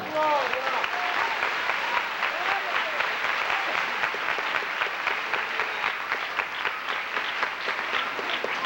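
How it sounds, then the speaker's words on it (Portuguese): A church congregation claps throughout a sermon, steady crowd applause with a voice speaking at the start. "Aplauda o Senhor."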